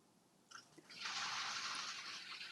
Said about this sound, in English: if you heard the water above